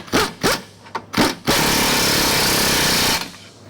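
Impact wrench bursts tightening a lower control arm bolt on a Mazda CX-7 during recall work: four short, loud rattling bursts followed by one sustained, steady hammering run of about two seconds, close by with no talk.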